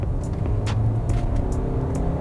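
Hyundai Santa Fe diesel SUV engine pulling hard, a steady low rumble with rising drone throughout, close and loud, no talking.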